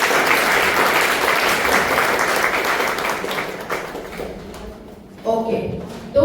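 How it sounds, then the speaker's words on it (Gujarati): Audience at a birthday celebration bursting into loud, sustained applause that fades after several seconds, followed by a few scattered claps and bumps. "એના માટે જોરદાર તાળી."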